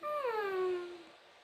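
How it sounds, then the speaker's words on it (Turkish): A cat gives a single close, drawn-out meow that starts high and slides downward before fading out, clear against a quiet background. "bu sevimli kedi nefes alamayınca"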